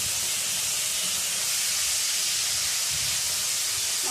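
Onion paste, green chilli and garlic hitting hot oil in a pan while cooking a fish roe curry, giving a steady, close, loud sizzle and hiss that runs unbroken for the whole stretch with no voices.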